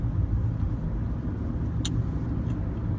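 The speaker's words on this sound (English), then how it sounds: "This traffic is a beast." Road traffic heard from inside a moving car, a steady low engine and tyre rumble with a brief sharp click partway through, no talk.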